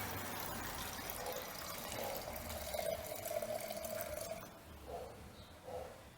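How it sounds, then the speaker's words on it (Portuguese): Gasoline, about 150 ml, poured into a container while preparing a two-stroke fuel mix; a steady liquid trickle with gurgling swells and a couple of short splashes near the end, fairly faint. "Aqui eu vou pôr 150 ml de gasolina."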